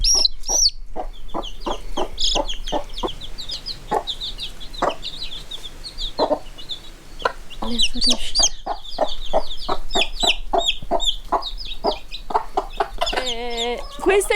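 Six-month-old hens cluck steadily in quick, repeated bursts nearby, with occasional higher squawks and a brief quiet voice in the background.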